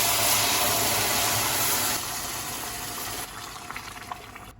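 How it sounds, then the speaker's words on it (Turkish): Boiling water pours into toasted rice in a pot, a steady hissing, bubbling rush that starts loud and close, drops a little partway through, then tapers to scattered sizzles and pops. "Şöyle pirincini ölçtüğüm su bardağında 3 su bardağı kaynar su koydum."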